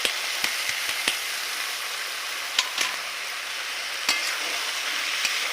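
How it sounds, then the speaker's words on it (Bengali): Jackfruit and soybean being stir-fried in a pan for biryani, a steady close sizzle broken by sharp scraping stirs, with no one speaking. "কষবো, একটু কষে নিয়ে লঙ্কা হলুদ দেবো"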